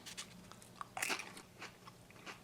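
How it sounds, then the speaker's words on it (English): A crisp, thin Pringles potato chip is bitten close to the mic, giving a quick sharp crunch followed by a few lighter crackles of chewing, with no speech. "Let's compare this to a Pringles potato crisp or potato chip"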